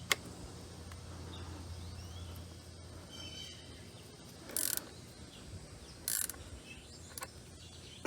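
A ratchet tightens the axle nut on a 1998 Suzuki JR 50, soft rapid clicking running through a quiet workshop, with two short louder bursts of ratcheting near the end, all close by.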